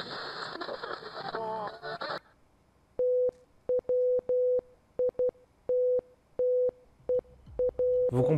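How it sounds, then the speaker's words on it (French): On a voicemail recording, a short burst of hissy radio static like a station being retuned cuts off, then a steady electronic beep repeats about a dozen times in uneven pairs and singles, clear and alone. "Il y a une sorte de bruit de radio qu'on change de station, mais surtout un bip-bip."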